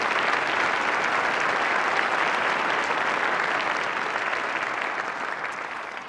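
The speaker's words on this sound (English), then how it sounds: "Let's give one more round of applause to all the other groups that performed as well tonight" Concert audience at a high school holiday concert applauding, a dense, loud, continuous roar of clapping that fades slightly toward the end.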